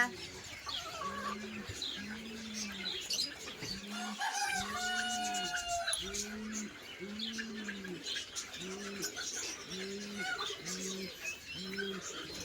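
Native country chickens cluck in a steady repeated rhythm close by, with a rooster crowing midway and pigeons cooing among the flock.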